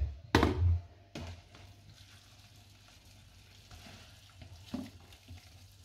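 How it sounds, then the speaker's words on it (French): Boiling water is poured over about 150 g of vermicelli with mushrooms in a kitchen, a brief splashing gush at the start followed by faint bumps and soft handling sounds. "On va les faire tremper dans l'eau bouillante."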